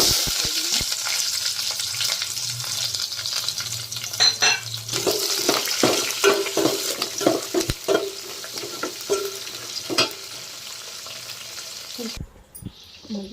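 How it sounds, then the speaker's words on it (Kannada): Chana dal, urad dal, mustard seeds, cumin, garlic and onion frying in oil for a bitter gourd stir-fry, a steady close sizzle with repeated spoon scrapes and clinks against the pan, fading near the end. "ಕಡಲೆಬೇಳೆ ಉದ್ದಿನ ಬೇಳೆ ಎಲ್ಲ ಹಾಕಿದ್ದೀನಿ ಇವಾಗ ಸಾ ಜೀರಿಗೆ ಎಲ್ಲನೂ ಮತ್ತು ಬೆಳ್ಳುಳ್ಳಿ ಮತ್ತು ಈರುಳ್ಳಿ"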